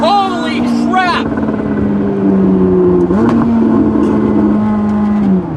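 A tuned McLaren 600LT engine roars loudly and close, holding a high rev and then dropping in pitch through downshifts, with a rise and fall mid-clip. An excited voice shouts briefly near the start.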